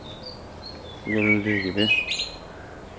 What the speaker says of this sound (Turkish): Kuşlar çok güzel ötüyor.